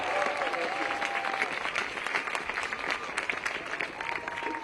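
A crowd at an outdoor Stand Up for Science rally applauds steadily, dense clapping and cheering filling the whole stretch at moderate distance, with a voice faintly audible beneath it.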